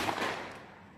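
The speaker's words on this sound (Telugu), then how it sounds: "బాంబులు పేలుస్తున్నారు" A single firecracker bursts in the distance near a home garden: one faint, sharp pop followed by a soft rolling tail that fades out within the second.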